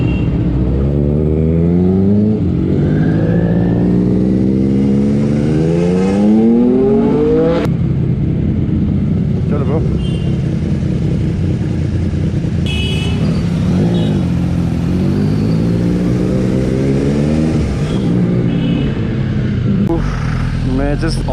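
Triumph Street Triple and Honda CBR 650 superbikes revving loudly and continuously nearby, engine pitch sweeping up and down across repeated throttle blips, with talk over the motor noise.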